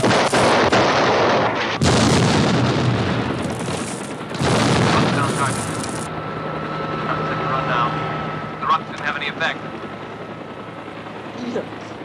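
Army rocket barrages firing and exploding in the 1980 film Superman II, set in a western town: loud booming blasts and rumbling fire fill the first half, then fade to quieter distant rumbles and scattered sounds.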